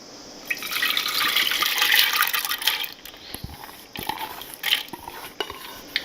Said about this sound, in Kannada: ಈಗ ನೀರು ಸಮೇತ ಹಾಕ್ತಾ ಇದ್ದೀನಿ.